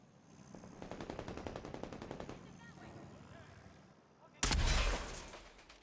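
Rapid automatic gunfire rattles in a steady burst from the shooter game Hotshot, then fades before a sudden loud explosion booms and rumbles out near the end, with a voice talking over parts of it.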